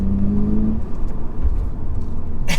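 A Toyota GR86 driven along a bendy road, with a steady engine drone and road rumble from inside the car, close and continuous.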